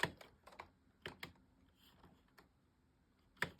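Typing on a Razer Huntsman V3 Pro TKL keyboard: a few sharp, close key clicks in irregular bursts with quiet gaps between, no speech.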